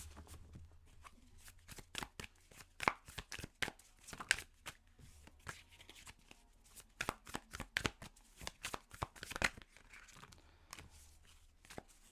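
Tarot cards are shuffled close and quietly in rapid crisp riffles and flutters, in irregular bursts with short pauses, without talk.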